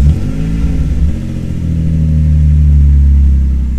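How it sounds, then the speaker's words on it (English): A Nissan 350Z engine cranks and catches after a throttle body cleaning, idling roughly at first before the low, steady running smooths out and grows slightly louder, close and alone with no talk. "you want to make sure that your car starts."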